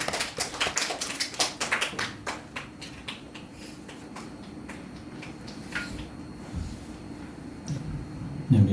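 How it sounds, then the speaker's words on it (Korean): A church congregation claps to welcome the pastor, brisk dense applause at first that thins out into scattered, slower claps and then fades. "나오실 때 우리 박수로 환영하도록 하겠습니다"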